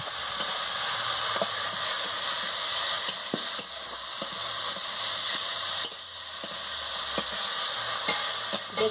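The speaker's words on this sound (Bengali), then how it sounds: "এবারে আলু আর গাজরটা দিয়ে মশলাটি কষিয়ে নেবো" Potatoes and carrots are stir-fried with spices in a pan for a paneer curry, giving a continuous loud sizzling hiss punctuated by brief scrapes and clicks of stirring, with no talking.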